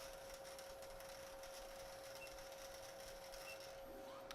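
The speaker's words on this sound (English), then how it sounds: "The sound in the background is a vacuum roller." A vacuum roller inside an InstyMeds medication dispensing machine grabs a label, giving a steady mechanical whir with a constant tone that runs throughout, with no other sounds over it.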